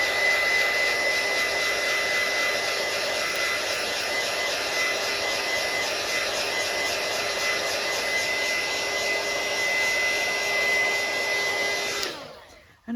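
A hair dryer blows steadily and loudly to dry glue on a handmade pamphlet, holding a constant whooshing roar for about twelve seconds before it abruptly cuts off.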